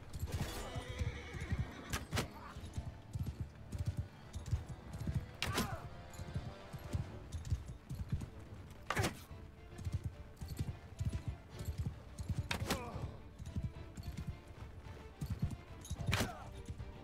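Horses in the medieval game Mount and Blade Bannerlord clip-clop steadily over several seconds, with loud neighs breaking in at intervals, all in game sound without talk.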